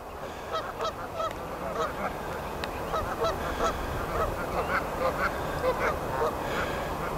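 Geese honk repeatedly on a pond, a busy overlapping chorus of loud, close calls with some quacking ducks mixed in.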